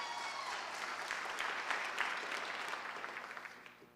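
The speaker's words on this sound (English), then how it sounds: "let's give her a round of applause" Applause from the crowd at a school district awards ceremony, dense sustained clapping from many people in a large hall, heard at a distance and gradually thinning out toward the end.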